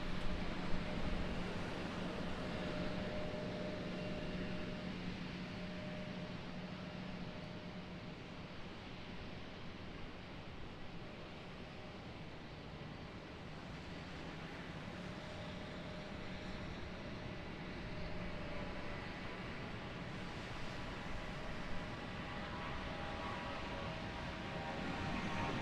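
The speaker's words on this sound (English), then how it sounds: "Ooh, the wind's picking up." Stormy wind at Raleigh-Durham airport blows as a steady, broadband rushing noise with gentle swells throughout. A faint, distant hum sits underneath.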